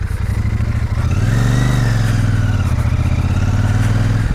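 A Royal Enfield Super Meteor 650 motorcycle ridden off-road, its engine droning loud and close with a steady throbbing note that rises slightly around a throttle change, joined by rough-ground clatter.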